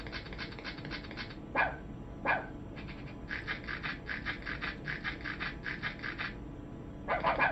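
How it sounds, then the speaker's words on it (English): A dog gives quick bursts of panting and a few sharp barks, fairly faint and indoors, in uneven clusters over several seconds with no talking. "Yep, that's my dog."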